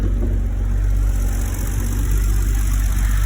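A modified BMW M30 3.5-liter engine in an Alpina B10 Bi Turbo idles steadily, a loud, even low rumble with a constant hum held throughout.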